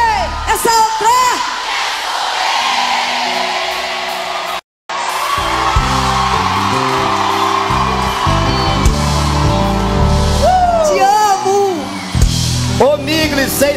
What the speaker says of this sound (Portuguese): Todo mundo grita bem alto, que eu quero ouvir a voz de vocês.